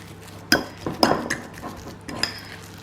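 A spoon clinks and scrapes against a bowl while Ready Brek is mixed into quark and egg, several sharp taps and knocks in an uneven rhythm, close and clear.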